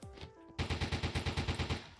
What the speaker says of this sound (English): Yeah, that was an explosion.